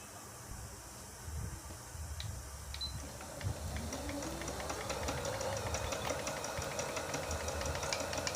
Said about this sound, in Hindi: आप देखेंगे कि बड़ी अच्छी ये ओवरलॉक करेगा